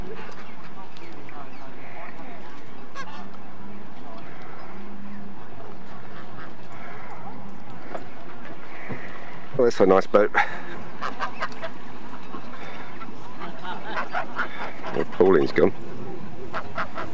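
Ducks quack in short bursts mid-way and near the end, fairly close, while people talk outdoors on the Norfolk Broads.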